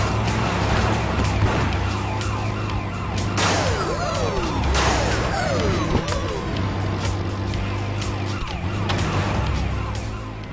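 Police sirens wail and sweep in overlapping rising and falling tones during a cop chase through the city in Grand Theft Auto: Chinatown Wars, with a steady traffic and engine rumble underneath and no talking.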